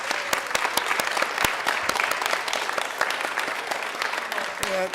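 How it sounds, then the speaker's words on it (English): Applause at a legislation committee meeting, a steady patter of clapping from a room of people, with sharp individual claps standing out. "big round of applause"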